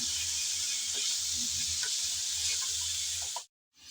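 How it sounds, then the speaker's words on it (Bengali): Onion stalks stir-frying in a pan, a steady broad sizzle with occasional scraping stirs, close and continuous before cutting off abruptly near the end. "সব কিছু এখন ভালোভাবে একসাথে মিশিয়ে নেড়েচেড়ে ভালোভাবে ভেজে নিতে হবে।"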